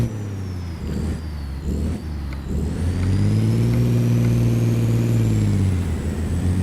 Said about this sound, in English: We can actually hear the engine.